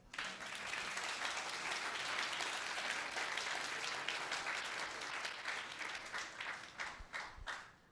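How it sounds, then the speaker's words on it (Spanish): A church congregation claps for the Lord during a Spanish-language sermon, a steady wash of applause that holds for several seconds and then thins into scattered claps near the end. "¿Cuántos le quieren dar un aplauso al Señor?"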